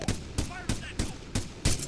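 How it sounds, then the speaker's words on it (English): Machine gun fire in the video game Arma 3, a rapid series of six evenly spaced loud bursts about a third of a second apart, close and punchy, with faint voices in between. "engage that machine gun front!"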